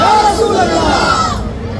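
Crowd at an Eid Milad un-Nabi gathering calling back in unison to a religious takbir chant, a loud, dense mass of voices for nearly two seconds before fading toward the end.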